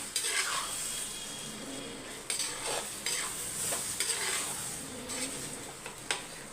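Tomato masala stirred in a clay pot on the stove, a soft continuous sizzle broken by repeated scraping and knocking strokes of a spoon against the pot, close and without talk.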